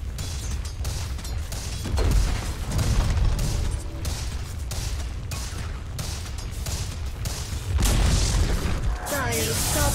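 A Dire top tower comes under attack and is destroyed in Dota 2, with repeated heavy booms, crashes and rapid impact bursts in a dense, loud battle din.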